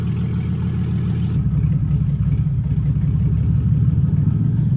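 A loud, rough 2008 Chevy Express van engine with broken mufflers idles with a deep, rumbling drone and uneven throbbing, steady throughout with no talking.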